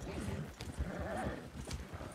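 Horses pulling a cart in Red Dead Redemption 2, hooves clip-clopping in a steady rhythm at moderate distance, partly under someone talking.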